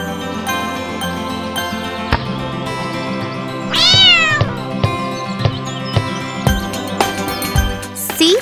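A cat meows several times over a bright children's rhyme tune with jingling accompaniment, one long rising-and-falling meow standing out loudly in the middle.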